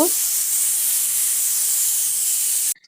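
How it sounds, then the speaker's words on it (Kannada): A pressure cooker with chicken sambar inside lets out a loud, continuous steam hiss close by for nearly three seconds, then cuts off abruptly. "ಇನ್ನೊಂದ್ ಕಡೆ ಕುಕ್ಕರ್ ಕೂಗ್ತಿದೆ ಎರಡು ಕೂಗು ಕೂಗಿದ್ರೆ ಸಾಕು"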